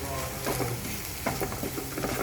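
Spoon stirring and scraping tomato, green chili, turmeric, chili powder and coriander powder in a pan for a fish curry, in repeated strokes over a soft steady sizzle, close and moderately loud.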